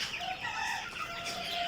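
Egyptian Fayoumi chickens cluck close by in a brief run of clucks and calls, with no speech.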